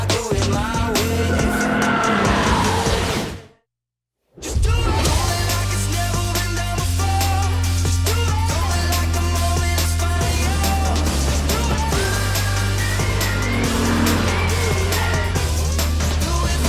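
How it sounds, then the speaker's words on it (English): A Lexus IS sports car laps a race track, its engine droning loud and close with shifting pitch as tires squeal through corners, broken by a brief cut before the run resumes. "We're gonna do 1 lap around the track, time attack style, 1 car at a time."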